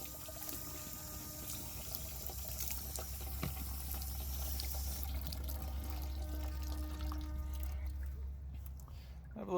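Tap water runs steadily into a small outdoor sink, a continuous splashing flow at close range that lasts the whole stretch before easing off near the end.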